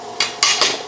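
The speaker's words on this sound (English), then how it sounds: "Now the ham goes in." Diced ham tumbling into a hot pan already holding chicken: three quick scraping, sizzling clatters in under a second, close and fairly loud.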